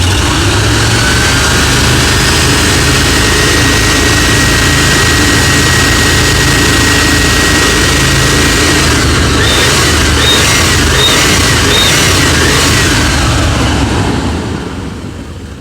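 A 1988 Chevrolet Suburban 2500 V8, revived after six years in storage, revs with a loud, sustained roar that holds steady throughout before easing off at the very end, with a high whine running through it.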